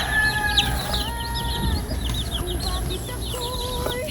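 Two mother hens clucking softly with their chicks on a farm, rapid repeated clucks mixed with high peeping from many chicks, close and continuous with steady outdoor background.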